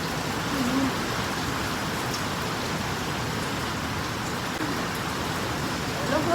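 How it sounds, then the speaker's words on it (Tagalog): Heavy rain pouring steadily in a dense, even hiss of drops on surfaces, loud and unbroken, with faint voices underneath. "Grabe yung ulan."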